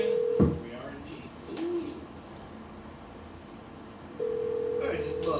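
A Skype call rings while waiting for pickup, with steady electronic ringing tones at the start and again near the end, a short chirp in the middle, faint room noise, and a voice speaking over it.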